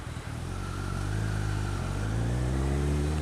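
A motorcycle rides in, its engine droning steadily and rising slightly in pitch as it pulls along, loud and close throughout.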